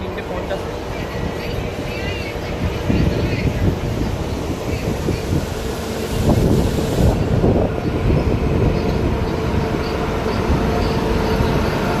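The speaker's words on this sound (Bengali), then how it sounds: "এটা কলকাতা গোরাখপুর পূর্বাঞ্চল এক্সপ্রেস" Kolkata–Gorakhpur Purvanchal Express passing on the Bandel–Naihati rail line, a loud, continuous close rumble of wheels and carriages with wind buffeting, swelling midway as the coaches rush past.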